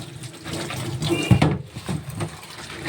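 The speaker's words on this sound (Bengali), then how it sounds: "এবার এটা ভালো করে সুন্দর করে ধুয়ে নেব।" Taro (kochu) is rinsed under a running kitchen tap. Water streams and splashes unevenly as the pieces are handled, close and fairly loud, with a few louder gushes.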